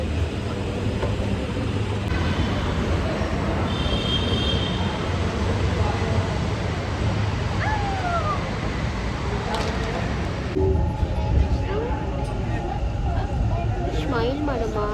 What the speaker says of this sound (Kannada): ಮೆಟ್ರೋ